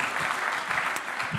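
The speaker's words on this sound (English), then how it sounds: "Give Alex a big round of applause." A stage show audience applauds steadily as a volunteer is called up, a dense, even wash of clapping throughout with no talk over it.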